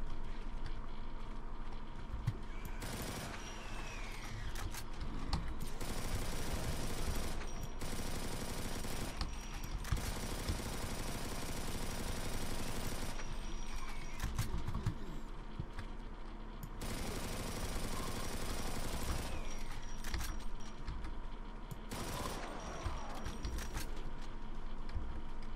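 Bursts of rapid SMG fire from the video game Brutal Doom rattle out in several sustained volleys separated by short pauses, loud and close against a constant game backdrop.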